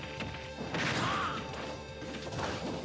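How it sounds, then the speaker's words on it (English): A down smash lands in Super Smash Bros. Ultimate, part of a Greninja versus Mii Brawler match. It comes across as a loud, dense crash and whack with busy game effects layered behind it, and no voices are heard. "Goes for the down smash."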